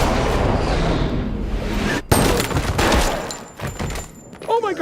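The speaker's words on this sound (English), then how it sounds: "I'm just gonna shoot him in the leg." Gunshot fired at a man's leg, a single sharp loud crack cutting through busy background noise, with ringing clatter after it.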